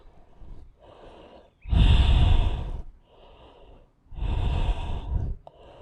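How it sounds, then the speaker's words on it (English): Heavy breathing during an all-levels exercise sequence, two loud, drawn-out breaths standing out clearly, with quieter, softer breathing in between and no talking. "Breathing."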